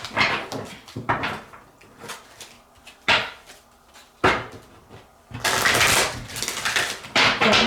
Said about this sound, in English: I'm going to get started shuffling